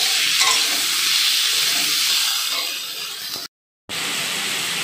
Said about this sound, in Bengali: মশলাটা ভাজা ভাজা হয়ে আসছে।